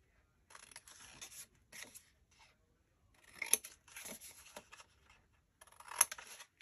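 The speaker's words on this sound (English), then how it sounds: "So you're just going to take your scissors and we're going to miter the corners." Scissors snip through paper to miter the corners of a craft album pocket, three separate bursts of close, crisp cutting with short quiet gaps between them and no talking.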